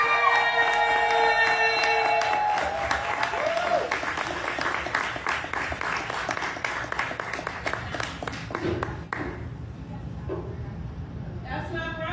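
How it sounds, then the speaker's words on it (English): A crowd applauds and cheers loudly for a featured performer at a Busboys & Poets venue in Hyattsville, with sustained dense clapping and whoops that taper toward the end. "Clap it up for our lunatic."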